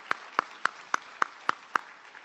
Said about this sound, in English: please help me giving a big round of applause to Dr. Vario Boyer